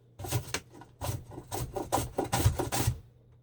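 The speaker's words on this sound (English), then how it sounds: "It's grating really fast, so it's quick." Onion rubbed over a cross-cut grater in nine quick rasping strokes, each a short scraping burst with brief pauses between, close and fairly loud.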